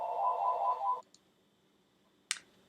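Home telephone ringing indoors, one electronic ring burst fading out after about a second, then a short click and a sharp knock-like sound, fairly faint.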